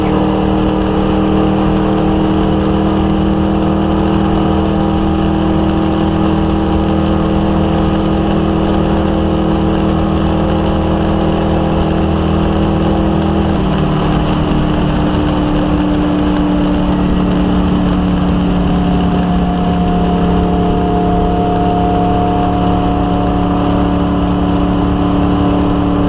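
A NASCAR stock car runs hot laps at Michigan International Speedway, its engine droning loud and constant from inside the cockpit with a steady low roar that shifts pitch slightly partway through, no talk over it.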